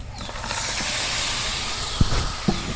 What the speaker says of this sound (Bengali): এখন আমি গোস্ত বাগার দিব।